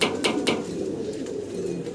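Pigeons cooing at a pigeon farm, a steady close low cooing murmur with a few sharper bright calls near the start, no talk.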